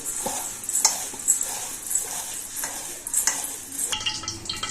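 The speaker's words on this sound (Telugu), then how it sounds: "మొత్తం ఇట్లా అటుకులు కలిపేసుకోవాలండి" Flattened rice (poha) for chivda being tossed and mixed in a pan, with continuous rustling and scraping strokes and light utensil contact in uneven rhythm, close and without talk.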